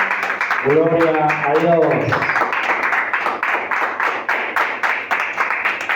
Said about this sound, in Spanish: Vamos a aplaudirle fuerte.